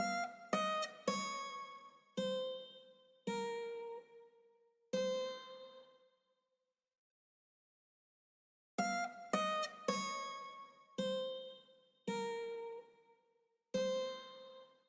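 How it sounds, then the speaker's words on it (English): Guitar top line, played cleanly and treated with a compressor, a vintage exciter and reverb: bright plucked notes ring and decay in two short melodic phrases separated by a few seconds of silence. "I used my re-guitar just to play a little top line"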